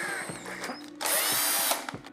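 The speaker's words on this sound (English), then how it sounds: "this Bosch PSR 1440. I have no idea yet if this works. Oh my God, it works." A Bosch PSR 1440 cordless drill whirs in short bursts, then holds one loud, steady high-pitched run for about a second before spinning down, close up with no voices.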